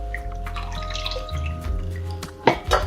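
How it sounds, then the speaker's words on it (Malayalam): Water splashing and dripping into a cooking pot as half a litre more is poured in for a South Indian rasam, with close trickling and a louder splash near the end, over a steady low hum. "ഞാനൊരു 1/2 ലിറ്റർ വെള്ളം കൂടി ഒഴിക്കുകയാണ് കേട്ടോ"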